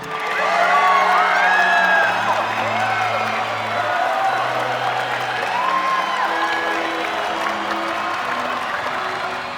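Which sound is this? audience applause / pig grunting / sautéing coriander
audience applause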